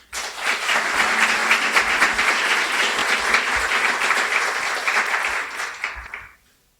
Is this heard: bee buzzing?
no